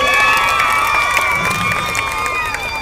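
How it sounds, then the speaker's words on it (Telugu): A crowd at an outdoor Urs festival stage show cheers and shouts, with high whoops and children's cries over a busy murmur, loud and sustained throughout. "వాళ్ళందరికీ ఒకసారి గట్టిగా క్లాప్స్ కొట్టండి అందరూ"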